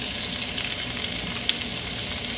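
Food sizzles steadily in hot oil in a home kitchen while chicken sandwich filling is being made, a dense, continuous crackling hiss close by with no talking.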